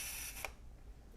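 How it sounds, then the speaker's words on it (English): A FED 3b rangefinder camera shutter fired at a half-second speed, a soft mechanical click opening and a second faint click closing, close and quiet in a still room. "I'm sorry, a half a second shutter speed."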